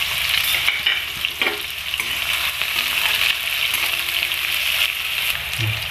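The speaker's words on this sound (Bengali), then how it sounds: "এখন আমি পেঁয়াজ কুচাগুলো দিয়ে দিচ্ছি।" Chopped onions sizzle and crackle in a hot pan for egg chow mein, a continuous close frying hiss with some stirring scrapes and no talking.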